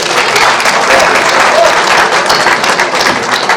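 An audience at a school annual day event claps in loud, dense, continuous applause that fills the room and holds steady from start to finish.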